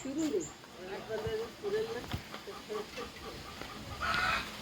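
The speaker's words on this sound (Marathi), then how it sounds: "अद्वैत गावाला झालाय गेला कोंबड्यांच्या मागे" Chickens cluck softly now and then, close by, with quiet outdoor background noise and a brief louder call near the end.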